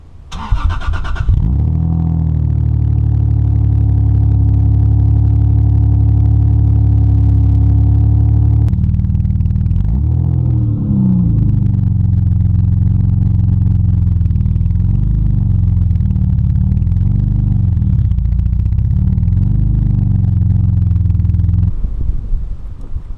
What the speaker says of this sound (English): whatever this exhaust is, whatever it came with, we're gonna listen to it just a couple times